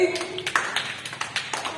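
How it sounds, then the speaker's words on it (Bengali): A small group of children in a classroom claps for a classmate: a short burst of light, uneven claps close by, with some voices mixed in. "ওর জন্য একটা হাততালি"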